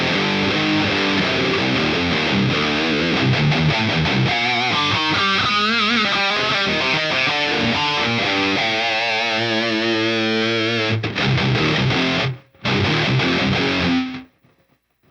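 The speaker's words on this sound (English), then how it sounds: "I do have a plate reverb on here." A distorted electric guitar through a Boss Katana amp with plate reverb plays sustained, heavily effected chords with a lush reverb tail, then cuts out briefly, returns, and fades into silence.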